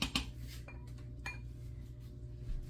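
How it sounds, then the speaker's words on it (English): Pots and dishes clink in a home kitchen while a ragu sauce cooks: a few sharp, brief metallic knocks spaced through a quiet, low background hum, with no talking. "More dishes to wash."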